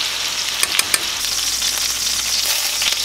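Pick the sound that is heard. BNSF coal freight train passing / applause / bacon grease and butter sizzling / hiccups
bacon grease and butter sizzling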